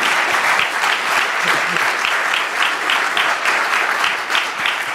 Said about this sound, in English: Well, I think we all owe Martin a big round of applause.